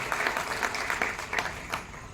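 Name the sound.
audience applause welcoming police staff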